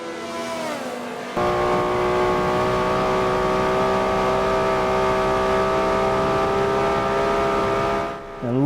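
Lotus sports car in a Forza racing game, its engine droning loud and steady with a rising pitch as it accelerates through fast traffic, after a short quieter lead-in; no one talks.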